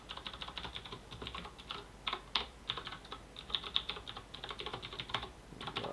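Someone types on a computer keyboard in rapid, irregular bursts of close clicky keystrokes, steady for several seconds with brief pauses.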